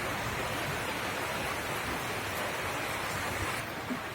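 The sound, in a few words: rain falling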